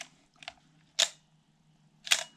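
Vivitar V3800 manual SLR film camera firing its shutter: three crisp mechanical clicks, a light one followed by two louder, sharper snaps about a second apart, close up in a quiet room.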